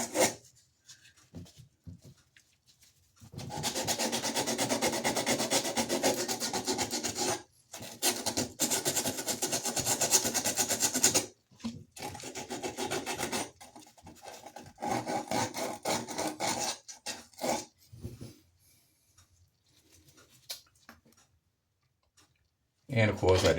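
Sandpaper rubs back and forth on a plumbing pipe while a bathroom shut-off valve is replaced, a close rasping scrape in long bursts separated by pauses.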